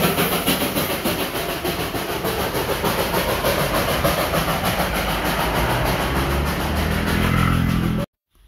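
Darjeeling toy train running on its narrow-gauge line, a steady loud rumble of engine and wheels with rhythmic clatter close by for about eight seconds, then cutting off abruptly near the end.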